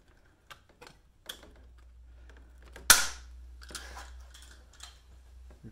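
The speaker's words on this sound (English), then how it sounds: "place them on the rivet and pull that with your rivet gun" A rivet gun pulls a rivet on a snow flap bracket, making one sharp loud snap midway, with scattered lighter ticks and clicks before and after it.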